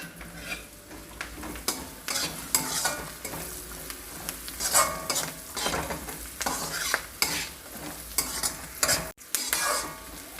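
Curry leaves dropped into hot oil for a dried fish and tomato curry, sizzling steadily while a spoon scrapes and stirs in repeated bursts against the pan, close and fairly loud with no talking.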